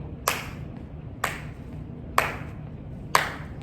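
Four sharp hand claps spaced about a second apart, each crisp and distinct over a low, steady background hum.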